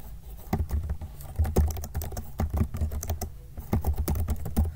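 Rapid, uneven clatter of a computer keyboard during coding, keys tapped in quick bursts with brief pauses, close and moderately quiet with no talking.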